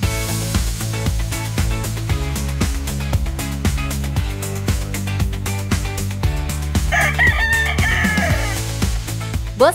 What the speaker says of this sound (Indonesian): di balik sejuknya Kintamani Bali, terdapat sumber cuan yang berkokok tiap pagi loh